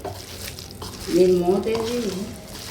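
Spices for mango pickle tempering in hot oil, a soft sizzle with stirring scrapes and a brief bubbling swell in the middle, fairly close and moderately loud.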